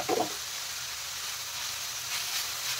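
Chopped cabbage frying in a hot pan for paneer spring rolls, a loud steady sizzle and hiss that carries evenly throughout after a brief clatter at the start.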